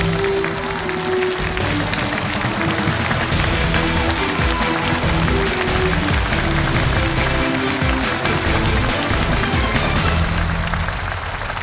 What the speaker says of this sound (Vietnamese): chúng tôi rất muốn tất cả quý vị chúng ta dành một tràng pháo tay thật lớn